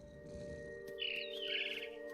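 A mama bird chirps in the video game What Remains of Edith Finch, bright twittering calls starting about halfway through over a soft steady game ambience and sustained tones.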